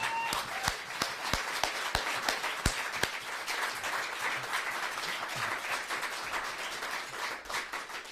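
An audience applauds a mentor during a Silver Circle award acceptance speech. Dense, even clapping continues throughout, with a few sharp, close handclaps standing out above the crowd.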